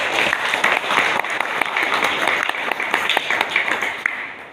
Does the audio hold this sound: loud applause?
yes